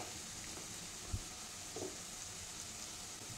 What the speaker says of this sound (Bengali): পেঁয়াজটাও দেখো ভাজা ভাজা হয়ে এসছে